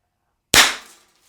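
A less-lethal derringer launcher fires one sharp, loud crack close by, and the report fades quickly in a short tail after a moment of silence.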